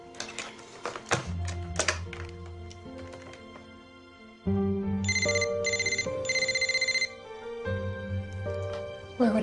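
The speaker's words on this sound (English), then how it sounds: "I'll call his cell phone." Cell phone ringing indoors, a bright repeating electronic ringtone in short bursts, moderately loud, following some clunks and handling noises at the start; no talking.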